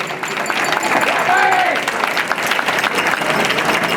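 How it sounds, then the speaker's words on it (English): Wedding guests give a round of applause after the father's toast, a dense burst of clapping that swells briefly then holds steady, with faint crowd murmur and a few cheers mixed in. "round of applause one time."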